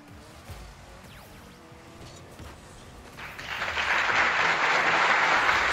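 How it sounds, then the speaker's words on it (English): A stream alert plays a burst of crowd clapping over Rocket League gameplay sounds; after a quieter stretch of game noise, sustained applause swells in and holds loudly to the end. "You're clapping for my goal, not for my mistakes!"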